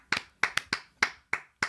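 Seven crisp hand claps from a single person, close and dry, in an uneven rhythm of quick pairs and spaced single claps against near silence.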